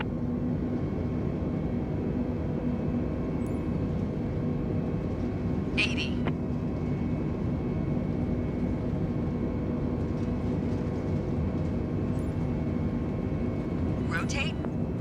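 Airbus A320 jet engines spooling on the take-off roll in Microsoft Flight Simulator 2020, a steady loud roar with a low rumble throughout, and two short sharp clicks from the cockpit breaking through.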